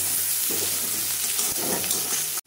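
Chopped onions frying in a hot pan, a loud, steady close-up sizzle with hiss running throughout and a soft stir or two underneath, cutting off abruptly at the end; no voices.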